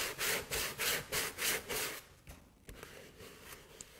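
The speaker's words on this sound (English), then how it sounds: "Whoops, we're rubbing a bit of the paint off the top there" Rubbing paint off the top of a painted surface with a cloth in a circular motion, a steady series of loud, close scrubbing strokes that fade into quieter, scattered scraping.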